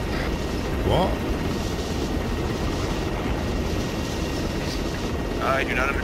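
Steady helicopter rotor and engine roar in a combat game, a continuous droning wash held at the same level throughout, with brief voice fragments near the start and end.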